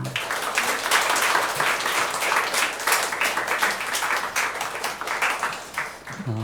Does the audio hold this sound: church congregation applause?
yes